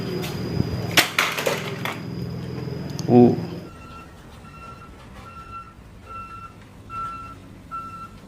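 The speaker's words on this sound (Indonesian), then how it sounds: "Mobil molen." A large concrete mixer truck, heard as a heavy engine rumble with clatter early on, followed by a steady run of reversing beeps pulsing at regular intervals as the truck backs up.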